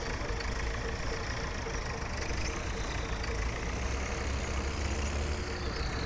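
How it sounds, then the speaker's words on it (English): A combine harvester engine runs steadily at a 1961 farm harvest, a continuous low idling drone with broadband mechanical noise, fairly faint and unchanging throughout. "we will take the combine over there and show you the start of the harvest"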